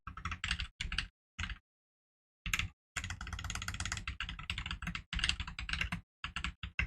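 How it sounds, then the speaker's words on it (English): Fast keyboard typing, close up, in bursts with short pauses between, then a long steady stretch of rapid key clicks. "I'm going to try start typing on my keyboard"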